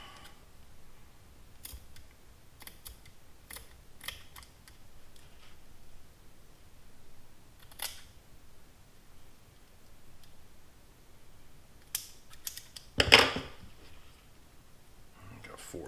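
Strands of rope line being cut with scissors or a blade, a few sparse crisp snips and rustles against a quiet background, with one louder cut near the end.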